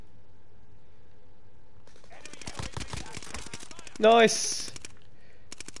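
Rapid bursts of automatic gunfire from Call of Duty Warzone, crackling over roughly two seconds in a dense cluster, with players talking and one exclaiming in the middle.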